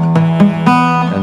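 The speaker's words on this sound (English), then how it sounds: "buzz because you're not pressing it down hard enough." Steel-string acoustic guitar chord strummed three times in quick succession with fretting fingers pressing too lightly, each stroke ringing with a slightly buzzy, unclean sustain, close and alone.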